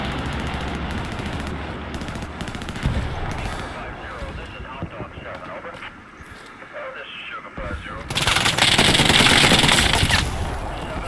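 Rapid machine gun bursts crackle in a Hell Let Loose battle, mixed with distant shooting and wind, then a loud sustained burst of heavy fire late on, with voices talking over the combat.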